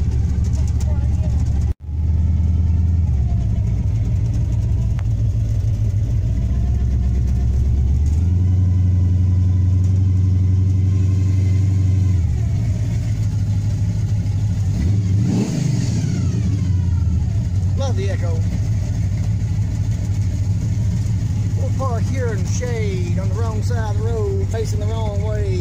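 A car's engine idles and revs as it turns around and parks by an old concrete arch bridge, steady and close, with someone talking over it and some tonal interference toward the end.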